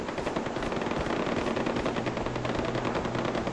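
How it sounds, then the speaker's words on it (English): Sustained automatic gunfire in the video game Far Cry 4, a dense rapid rattle of shots running without pause at steady loudness, with no talk over it. "Is this shooting coming from over here?"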